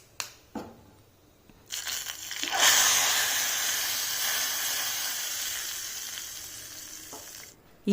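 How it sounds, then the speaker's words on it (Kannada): Mustard seeds, cumin and asafoetida hit hot ghee for a tempering, breaking into a loud, crackling sizzle that starts suddenly after a few light knocks and then hisses steadily, slowly easing off. "ತುಪ್ಪ ಹಾಕ್ಕೊಂಡು ಸಾಸಿವೆ ಹಾಕಿ ಜೀರಿಗೆ ಹಾಕಿ ಆ ಉಳಿದಿತ್ತಲ್ಲ ಹಿಂಗು ಅದನ್ನು ಹಾಕಿ ಒಗ್ಗರಣೆ ಕೊಟ್ಟೆ"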